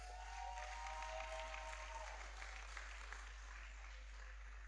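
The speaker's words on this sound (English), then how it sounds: "just give the class of 2026 one big applause for me" An audience at a preparatory school graduation ceremony applauds the graduating class with a faint, continuous wash of clapping over a low steady hum.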